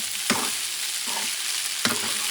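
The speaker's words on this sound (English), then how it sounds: "I'm going to mix the meat, the flavors, the little fat and oil." Pork rib meat with a little fat and oil sizzles steadily in a pot, broken by three sharp stirring scrapes spaced evenly across the clip; no voices.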